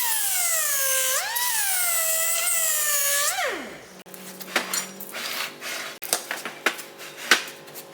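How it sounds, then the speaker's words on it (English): A 60 grit flap wheel grinds around weld corners on a new excavator H link, a steady high whine for about four seconds that drops away, then irregular scraping and clinking bursts. "I'll also be using a 60 grit flapper wheel, and that's just to get around the corners"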